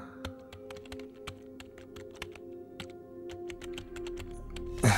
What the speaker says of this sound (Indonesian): Lanjut aku menyalakan komputer dan segera mengetik laporan keuangan